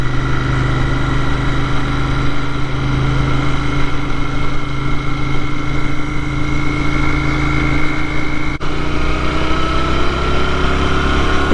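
A 2021 Royal Enfield Continental GT 650 twin engine and exhaust give a steady, loud droning hum while riding, holding an even pitch throughout with a brief dip near the end and no voices.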